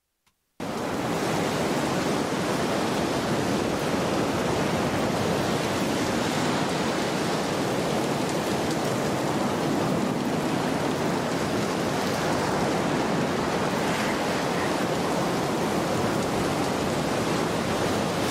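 Ocean waves on a coast make a steady, dense roar of surf in this ambient recording. The sound is constant and fairly loud, and no one speaks.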